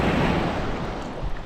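Strong ocean waves roll in at a beach resort in Candelaria, Zambales, a loud, continuous rushing surge with wind buffeting the microphone.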